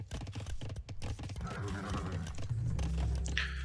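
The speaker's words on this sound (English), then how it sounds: "Now we have horse archers." Horses of mounted horse archers in a video game battle, a busy mix of hoof clatter and movement with a brief whinny-like cry, fairly loud and continuous, layered with other game noise and no talk.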